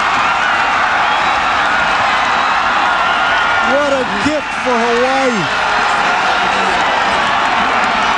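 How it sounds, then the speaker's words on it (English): A stadium crowd roars loudly and continuously after Hawaii's 2003 football win over San Jose State, a dense, sustained wall of cheering with a commentator briefly speaking over it. "And the crowd is going nuts"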